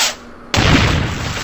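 A single loud cannon shot from a Webkinz Battleship game cuts in abruptly after a quiet start, then rings on as a sustained broadband blast with no talk over it.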